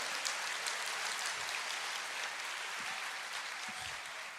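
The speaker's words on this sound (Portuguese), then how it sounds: "Aplauda o Senhor" A church congregation applauds together in a steady, dense wash of clapping that holds at an even loudness for several seconds, with no voices over it.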